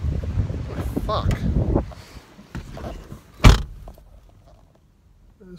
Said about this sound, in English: It's fucking windy.